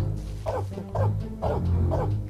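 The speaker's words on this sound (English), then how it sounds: "Is that really a guard dog though?" A guard dog in a video game barks in four evenly spaced, loud, close yelps with a steady low background hum.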